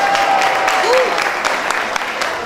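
An audience at an album launch event claps steadily, a loud, full burst of applause from a close crowd with a faint tone and voices briefly mixed in beneath.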